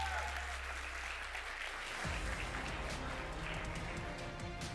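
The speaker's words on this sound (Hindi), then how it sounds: "एक बार जोरदार तालियां अक्षय और दिग्विजय के लिए" Audience applause for Akshay and Digvijay at a network marketing seminar, a steady wash of clapping that grows fuller and denser midway, with crowd noise underneath.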